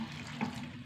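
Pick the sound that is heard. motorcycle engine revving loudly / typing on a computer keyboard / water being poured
water being poured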